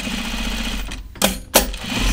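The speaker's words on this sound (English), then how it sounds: "my machine's sewing it like butter" A home sewing machine stitching through the thick layered denim of a jeans fly, running in a steady hum that pauses, then surges in two short, louder bursts of stitching.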